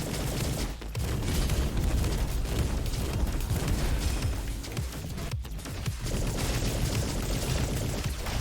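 Dense, rumbling blasts from the Dragon Mortar boss battle in the Roboquest video game, a continuous barrage of loud explosions and crackling impacts layered over one another with little pause.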